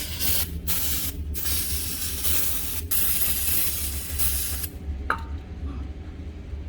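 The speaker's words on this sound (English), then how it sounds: "So I'm going to go ahead and spray this thing off before I take it apart." Cleaner sprays in a loud, steady hiss onto a 1974 VW Beetle carburetor at a workbench, broken by a few brief pauses before stopping near the end, followed by a small click.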